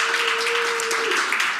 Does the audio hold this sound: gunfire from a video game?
no